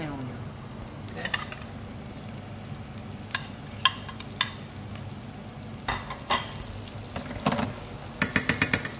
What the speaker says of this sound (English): I start to saute my onion